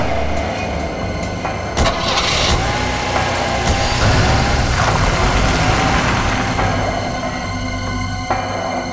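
A car engine cranks and catches, then settles into a steady mid-pitched running hum with slight revving, close and loud throughout, punctuated by a few sharp clicks and knocks.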